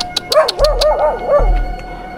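A dog barks at a rural cemetery in Dumanjug, Cebu, giving about four quick, fairly close yelps in a short burst, with low rumbling background noise and no talk.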